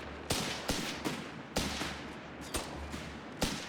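Heavy artillery booms from a howitzer in a Company of Heroes 3 match, about eight sharp blasts at irregular intervals, loud and close, each with a rumbling tail over a steady battlefield bed.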